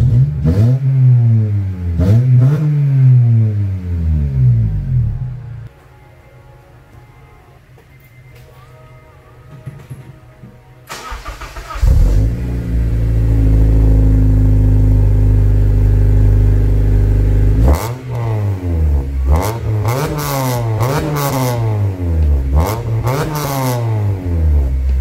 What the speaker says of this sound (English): That's a pretty clean exhaust system.